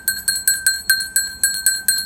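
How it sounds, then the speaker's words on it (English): A small handheld bell rung rapidly and repeatedly, about nine bright metallic clangs in an even rhythm, close and loud with no talk. "I just bought this bell and I kind of want to ring it."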